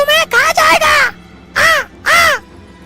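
A cartoon crow caws loudly and close, four or five harsh, ringing calls in quick bursts with short gaps between them.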